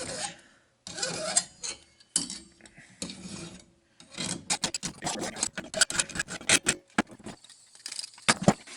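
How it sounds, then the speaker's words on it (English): A hand file works a forged steel S hook in a basement blacksmith shop, making a series of harsh metallic rasps, first as longer strokes and then as quicker, choppier ones, close and fairly loud. "I'll file this up a little bit before we go to draw that edge out"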